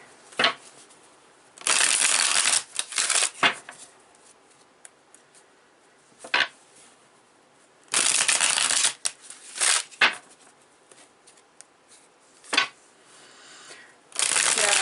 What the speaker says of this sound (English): I'm going to pull some tarot here.